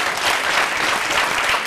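Concert audience applauding at a live music show, a dense, steady clapping that fills the whole stretch at close range with no gaps.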